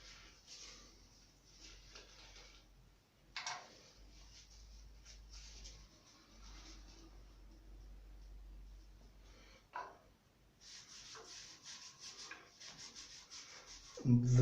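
Honey-coloured paint brushed over an egg box makes faint, dry, scratchy rubbing strokes in irregular bursts, close and quiet, with a few sharper scrapes.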